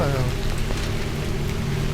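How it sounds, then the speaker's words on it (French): Steady rain falls in the Bunker 16 video game, a continuous dense patter heard close and fairly loud, with a faint tonal hum underneath and no clear speech. "Apparemment, la pluie continue de tomber, hein."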